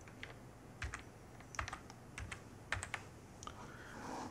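Typing on a computer keyboard at a desk, quiet clusters of crisp key clicks in short irregular bursts, close but faint, with no talk.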